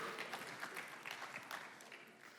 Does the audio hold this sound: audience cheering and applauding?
yes